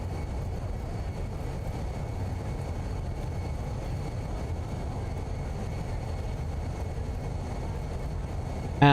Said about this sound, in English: Reverse thrust. Reverse green.